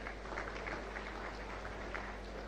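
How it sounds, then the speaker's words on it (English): A ceremony crowd applauds at Ghana's Sentuo oil refinery Jubilee crude oil berth event, with steady, dense clapping holding for the whole stretch, a low hum underneath. "Please, another round of applause."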